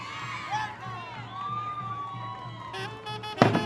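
A crowd at a Santiago festival contest in Vitarte cheers and whoops, with shouts and a voice ringing over the noise, ending in a short louder burst.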